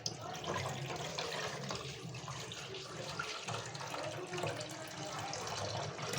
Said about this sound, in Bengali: এরকম করে আমার অনেকগুলো ধোয়া দিতে হবে।